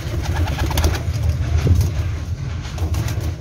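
Pigeons coo in soft, low repeated calls close by, with a busy rustling background and no speech.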